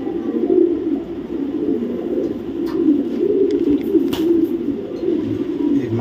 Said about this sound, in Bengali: এগুলো টস করা কবুতর।